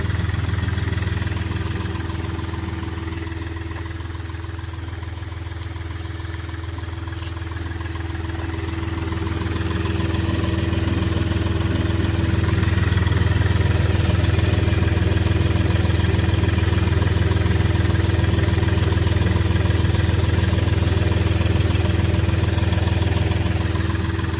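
A 2014 Hyundai Xcent top-end diesel car idles steadily and up close, a continuous low rumble with a faint knocking texture that swells gently and holds for about twenty-four seconds, with no talking.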